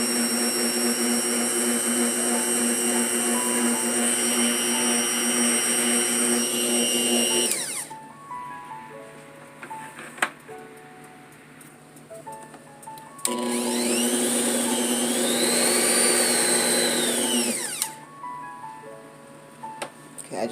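An electric hand mixer beats eggs into lemon cake batter, whining steadily at first, then dropping off, briefly restarting on low and running again at a higher speed before stopping; someone talks in the quieter gaps.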